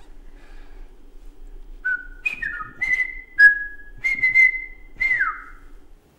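A man whistles a tune alone, clear sustained notes with gliding pitch changes, some bending downward, in a quiet studio setting without talk.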